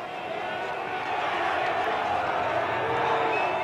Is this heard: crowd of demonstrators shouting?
yes